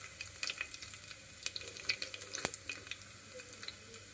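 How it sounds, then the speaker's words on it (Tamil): Cumin seeds frying in hot oil in a pan while making chole gravy, with a soft continuous sizzle broken by small scattered crackles and pops, one sharper pop standing out; faint and close, with no talking. "இப்போ வந்து நல்லா ஒரு 2 ஸ்பூன் ஜீரகம் அதில் போட்டு நல்லா பொரியணும்."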